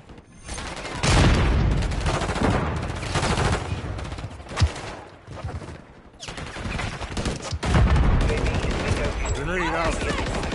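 Heavy multiplayer gunfire in Call of Duty: Modern Warfare III on the map Meat, with overlapping automatic bursts, sharp single shots and a loud blast, mixed with in-game voice callouts.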